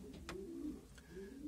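A mature racing pigeon coos softly in a loft, two low throaty coos close by, with faint chirps in the background.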